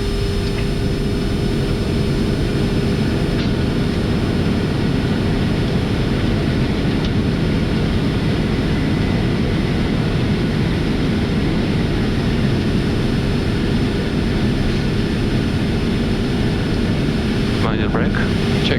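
Boeing 747-400 thrust reversers roar on landing rollout, a steady loud broadband rumble filling the flight deck throughout, with a brief crew callout near the end.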